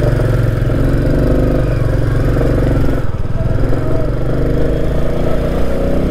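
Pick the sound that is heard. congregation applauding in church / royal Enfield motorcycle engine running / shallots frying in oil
royal Enfield motorcycle engine running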